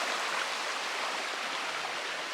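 Rock Creek flows past a trailside campsite on the Pacific Crest Trail, a steady, full rushing hiss of water heard close and unbroken, with no voices.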